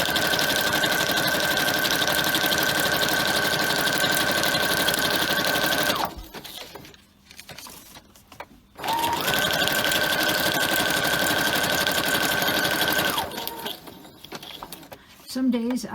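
A domestic sewing machine stitches through paper in long, steady buzzing runs, stopping briefly partway through for a pivot before resuming its loud, even whir.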